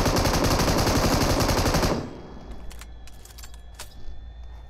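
Dense rapid gunfire from the PUBG Mobile battle game fills the first two seconds loudly and continuously, then cuts off, leaving quieter engine-like hum with a few sharp clicks and taps.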